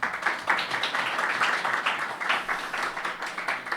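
A congregation applauding during a church founding service, a dense, continuous patter of many hands clapping in a room at a steady level, with faint voices underneath.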